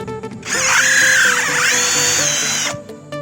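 A close electric drill spins up loudly and grinds into wood for a couple of seconds, pitch sagging under load before cutting off.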